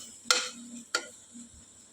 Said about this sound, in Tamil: உப்பு சேர்த்துட்டு நல்லா வதக்கிக்கிறோம்.